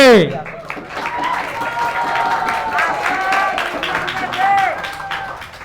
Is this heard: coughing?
no